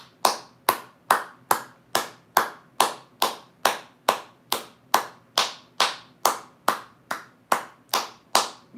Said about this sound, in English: Can we get a round of applause for Milcom?